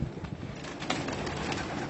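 Muhayyarat pigeons coo in a brief, close burst of soft, overlapping throaty calls over a steady background murmur, with no talking.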